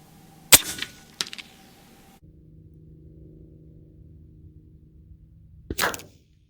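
An AirForce Texan LSS air rifle fires, giving a sharp, loud crack followed by a smaller impact, a quiet lull, then a second sharp report near the end, with no voices.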